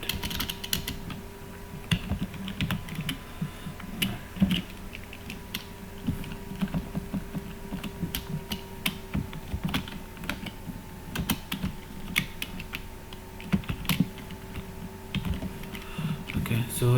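Steady typing on a computer keyboard while entering text into an ad campaign form, a continuous run of close, even key clicks over a faint hum, with a little quiet speech now and then.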